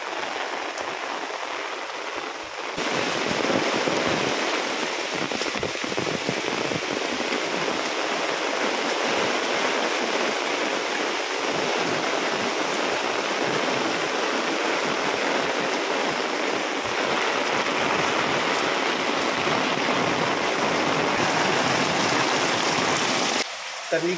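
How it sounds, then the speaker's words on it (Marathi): Heavy rain pours down steadily on a village home in Konkan, a dense, continuous roar of water with heavy runoff that holds at the same strong level throughout, after a brief quieter start. "मी घरी पोचलो आणि जोरदार पाऊस सुरू झालेला आहे"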